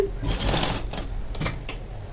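A sewing machine stitches a straight seam along folded blouse cloth, giving short, close mechanical whirring bursts with brief pauses between them.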